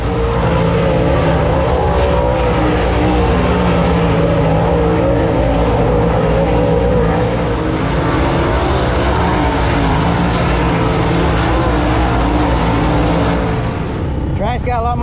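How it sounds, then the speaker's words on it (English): Dirt track race cars roar around the track on hot laps, a loud sustained engine drone near and steady throughout, fading slightly at the end, with a voice talking over it. "it is hot lap time for the B main cars"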